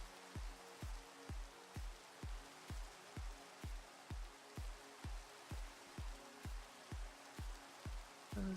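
Rain in a modded Minecraft world is a faint, steady hiss. Regular low thumps from game machinery pulse about twice a second over it.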